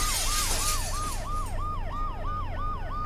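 An ambulance siren wails in the video game Dead Synchronicity, its rising-and-falling two-tone cycle repeating steadily and loud over a low engine rumble, with no voices.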